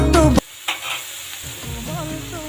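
Turmeric goes into frying food and is stirred, bursts of loud sizzling and scraping with a sudden cut, then quieter frying while music plays underneath.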